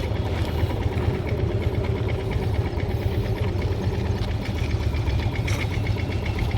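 A motorcycle engine at a riding school runs steadily as the clutch is slowly let out, a close, continuous low chugging rumble with no voices over it.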